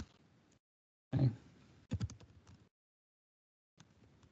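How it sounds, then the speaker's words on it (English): Computer keyboard keys clatter in short, sparse bursts, a quick cluster of taps followed by pauses and a few more scattered presses, close and fairly quiet with no voices. "So I apologize for my poor typing speed."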